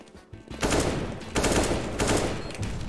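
Loud bursts of rapid automatic gunfire in CS:GO on the 2012 version of Dust II, two long volleys close by, each a dense rattling blast with a brief gap between.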